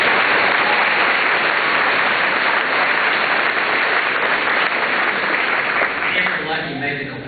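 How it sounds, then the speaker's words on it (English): Sustained, dense applause fills a school dedication ceremony, then tapers off near the end as a voice begins speaking. "Let's give another round of applause."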